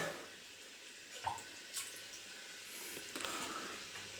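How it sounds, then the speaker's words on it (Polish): Cold water runs steadily into a container for mixing fishing groundbait, a soft continuous splashing with a couple of small clinks and drips, fairly quiet and close. "nalejemy tutaj do tego naczynia wody"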